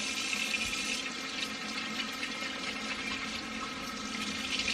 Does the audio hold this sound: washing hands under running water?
yes